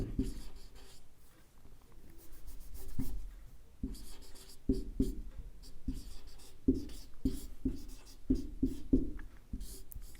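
Marker or chalk writes on a classroom board during a Hindi grammar lesson, making a faint series of short, irregular scratchy strokes and taps over a quiet room hum.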